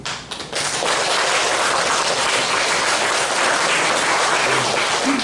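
An audience at a Korean UPF gathering breaks into applause after a few scattered opening claps, then keeps up loud, steady clapping throughout.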